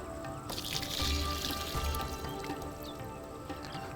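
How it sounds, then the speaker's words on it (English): Salted water drains slowly off prawns in a kitchen, trickling and pouring softly for a few seconds with faint splashes and drips, and no one speaks. "Now I've basically added a little bit of salt to the water, and I've just kept the prawns in that. I shall drain the water out slowly."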